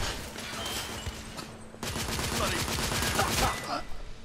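Enemy gunfire in The Order: 1886, a dense rattling burst of rapid shots under a steady din of battle, pausing briefly before resuming louder with sharp cracks near the end.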